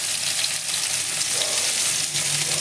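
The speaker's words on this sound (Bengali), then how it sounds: "সুন্দরভাবে নাড়াচাড়া করতে হবে যেমন প্রত্যেকটা আলু কুমড়ো সেদ্ধ হয়ে যায়" Pumpkin and potato pieces frying in a pan while being stirred, a dense, loud, even sizzle throughout with faint scraping underneath.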